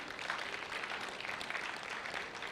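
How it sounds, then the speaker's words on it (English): Faint, continuous applause from an audience at a cooking event, a dense wash of many hands clapping at once, steady and distant throughout. "So can we clap for our partners?"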